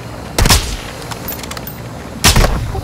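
Two heavy gunshot blasts in a video game, each a sharp loud crack with a booming tail, roughly two seconds apart, alone against quiet background ambience.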